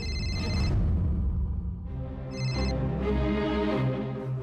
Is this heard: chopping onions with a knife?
no